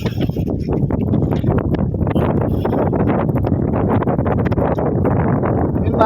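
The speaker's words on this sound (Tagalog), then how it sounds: "Kung naririnig nyo yung hangin." Wind blowing hard outdoors on a breezy day, a steady loud rush and buffeting across the microphone that fills the whole stretch with rumbling gusts and no talk.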